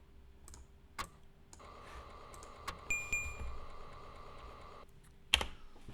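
Keys tapped on an Atari ST computer keyboard while entering a command into the King's Quest II game, a few sharp isolated clicks over a steady electronic hum, with faint high chirps partway through.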